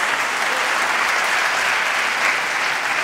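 Badminton teammates from England clap from their feet behind the court during a men's singles final at the 2015 European team championships, giving sustained, even applause that sounds a little more distant and softer.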